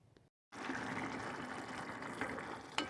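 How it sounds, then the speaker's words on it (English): Water pours steadily into a cooking pot for a vegan shepherd's pie, a continuous close splashing rush that lasts about two seconds after a brief silence. "Added some water and"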